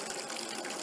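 Slush mix draining from the tank of an Elmeco slush machine into an empty tank below, a steady gushing, hissing flow heard up close and alone.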